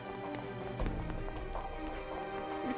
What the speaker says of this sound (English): The sound of merciless footsteps moved in behind him.